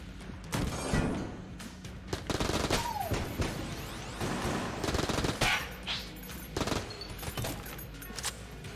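Rapid gunfire and impacts from the dungeon-crawling shooter game Enter the Gungeon, a busy run of overlapping shots and bursts over game sound, steady and close throughout.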